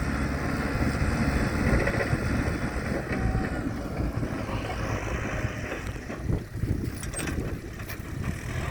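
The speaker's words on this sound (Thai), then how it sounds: "รุ่นนี้จะเป็นเครื่องยนต์สี่สูบนะส" A farm tractor with a four-cylinder, 45-horsepower engine runs steadily nearby in Buriram, Thailand, where it ploughs rice fields. It gives a continuous, loud, low mechanical rumble with no break and no speech.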